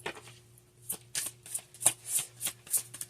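Tarot cards being shuffled in a series of quick riffling bursts, close and crisp, with short pauses between each flutter and no talking.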